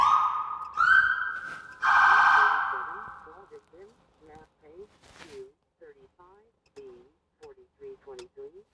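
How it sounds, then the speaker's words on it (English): A loud police siren wails up and holds a long steady tone, then breaks into rapid rising yelps repeating in short bursts, close and with no talking over it. "Here come the sirens."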